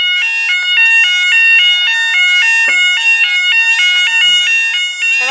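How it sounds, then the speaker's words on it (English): The alarm at Stallington Road level crossing in Staffordshire sounds loud and close as a rapid, repeating two-tone electronic warble. It runs steadily with one brief skip in its rhythm, and no talk is heard over it. "Alarm skip."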